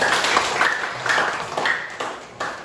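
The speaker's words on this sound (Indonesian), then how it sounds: "tepuk tangan untuk kalian semua" Students clapping for one another in a classroom, several brief bursts of hand claps close by over a background murmur.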